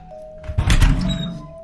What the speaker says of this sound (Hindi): तभी गेस्ट रूम का दरवाजा खुला।